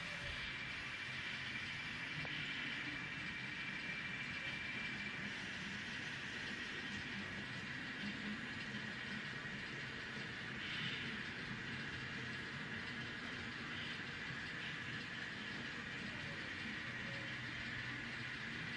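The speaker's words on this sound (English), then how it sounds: "you've got BNSF manifest on Main 2 coming east as well" A model BNSF freight manifest runs on a layout, making a faint, steady rolling rattle with light clicking that continues without a break.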